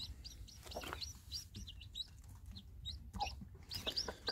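Five newly hatched chicks peep in rapid, high repeated chirps, close and steady, with a few lower clucks from a hen now and then.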